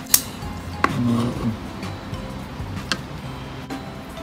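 Green onions being chopped with a kitchen knife during outdoor camp cooking: a few sharp, separate knife strikes on a board with light clinks in between, close and fairly quiet, with no talk.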